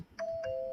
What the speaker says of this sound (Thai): อันนี้นะคะเสียงกดกระดิ่ง